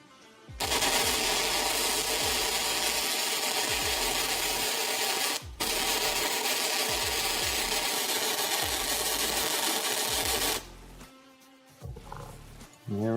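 Flux-core welder laying a bead on a steel table, a loud steady crackling buzz running near continuously for about ten seconds with one brief break, then stopping.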